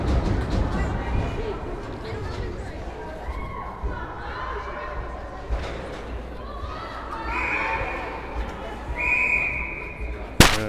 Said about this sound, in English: And there seems to be another whistle on the play here.